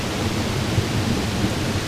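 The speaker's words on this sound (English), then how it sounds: "The thunder." Thunder rolls during a rainstorm near a waterfall, a low, steady rumble blended with dense rain hiss, constant for about two seconds, with no talk.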